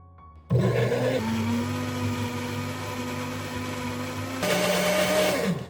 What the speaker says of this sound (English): Put the gel in a blender.